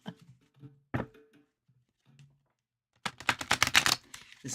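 A deck of tarot cards riffled and shuffled by hand at a table, a few soft taps and slides followed by a rapid burst of crisp flutter clicks, close and clear with no talk.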